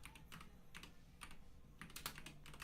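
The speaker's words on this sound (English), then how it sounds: "I'm typing this in." Quick bursts of keystrokes on a computer keyboard, irregular clusters of clicks close to the microphone, fairly quiet with no talking.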